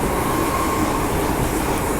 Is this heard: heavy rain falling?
no